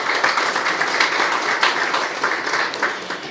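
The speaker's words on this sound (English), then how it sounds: "Let us give her yet again another round of applause." A round of applause for a team leader at a youth economy agency gathering, dense and steady clapping from a room of people continuing evenly for a few seconds without talk.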